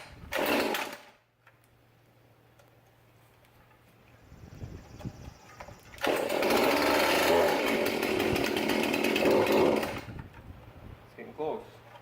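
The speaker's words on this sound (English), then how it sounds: "This is a brand new chainsaw, which I've never started before." Brand new chainsaw pulled to start, with a short sputter, a quiet pause, then the engine catching and running loudly for several seconds before dropping to idle, with light handling noises around it.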